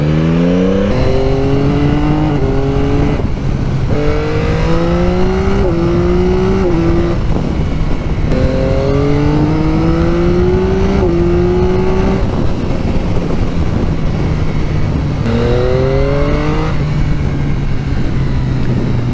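A 2022 Yamaha XSR900 motorcycle accelerates hard on the road with traction control at minimum. Its engine pitch climbs steadily, drops at each gear change, then climbs again in a repeating pattern over constant loud wind rush.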